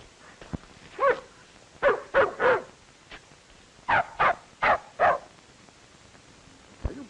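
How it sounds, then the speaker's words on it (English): A big dog barking at a little dog, a series of sharp barks in uneven groups of two to four, fairly close, separated by quiet pauses. "Are you barking at that little dog?"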